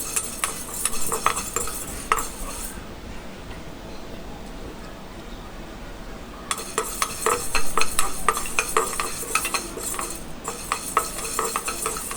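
Ingredients dry-roasted in a pan until light brown for sundakkai vathal kuzhambu, with steady scraping and stirring of a utensil against the pan and light metallic clinks, close and moderately loud, with a quieter stretch midway; no talking.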